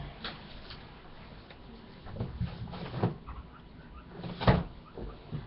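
A closet door is opened to fetch a towel, giving a few soft, close knocks and rattles that peak near the end over faint room noise.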